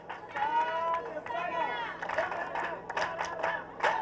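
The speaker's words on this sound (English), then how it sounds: "Let's clap for them." Crowd clapping for race participants at a military sports medal award ceremony in Uganda, moderately distant and mixed with cheering voices and a lead speaker talking over it.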